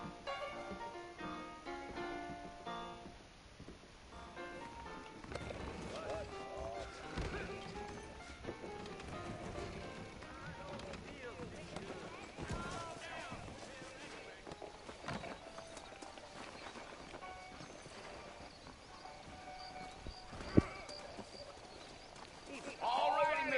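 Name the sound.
horses trotting, from a video game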